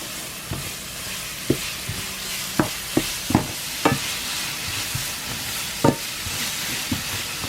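Shallots stir-frying in a pan, a continuous sizzle with scattered knocks and scrapes of a utensil against the pan at irregular intervals.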